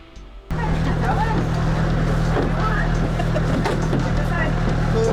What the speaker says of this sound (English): Going for a boat ride,